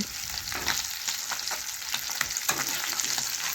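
Three fish fry in a pan as they are turned to brown on the other side, with a steady, close sizzle and crackle and no talking.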